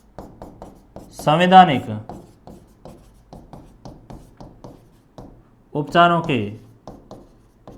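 Marker or chalk writing on a board during a polity class, a steady rhythm of short close scratchy strokes that continues under a man's speech.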